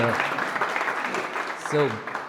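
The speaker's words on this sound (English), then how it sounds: "Can I ask an applause to my shy colleague?" Warm applause from an audience at a demonstration event, a dense patter of clapping throughout, with a voice speaking briefly over it near the start and again toward the end.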